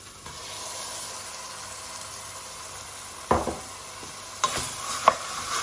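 Ground beef sizzles steadily in a pan for a chili con carne, a constant frying hiss broken by a few scraping stirs and clanks of a utensil.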